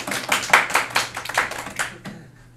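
Scattered light applause from a classroom of students, a handful of separate claps in an uneven burst that thins out and stops after about two seconds.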